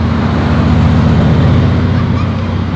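A Bugatti Veyron in Zurich street traffic, its loud, steady engine drone filling the short stretch without letting up.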